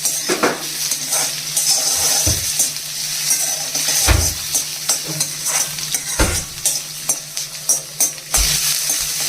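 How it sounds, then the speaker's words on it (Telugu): Dried red chillies and chutney ingredients frying in a pan, loud close sizzling with regular hard scrapes and clunks of a spatula against the metal every couple of seconds. "ఇదండి ఇవన్నీ బాగా వేగిపోయాయి కదా."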